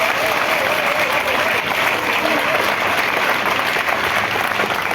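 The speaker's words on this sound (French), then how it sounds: "Et après ça, applaudissez les femmes." A large crowd at a political rally applauds in honour of the women, a thick, continuous wash of clapping that holds steady and loud throughout.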